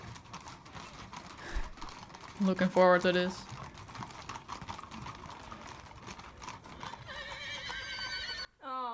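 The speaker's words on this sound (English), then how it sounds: "Angry horse at changing of the guard ceremony." An agitated horse neighs and whinnies loudly at a changing of the guard ceremony, with a sharp burst of calls mid-clip and hooves clopping, while people talk over the crowd noise.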